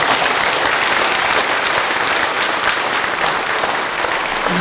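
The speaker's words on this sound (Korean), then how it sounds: "박수로 환영해주시면 감사합니다" Dense, sustained audience applause from a large crowd at a birth anniversary ceremony for South Korea's founding president Syngman Rhee, steady clapping throughout without a pause.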